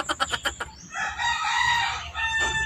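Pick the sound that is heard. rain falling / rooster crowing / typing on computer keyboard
rooster crowing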